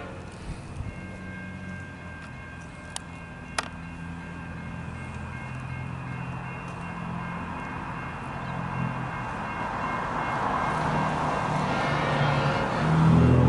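A V/Line train rumbles into a platform gradually, its low mechanical noise swelling louder toward the end, with a couple of sharp clanks and a steady hum in the background.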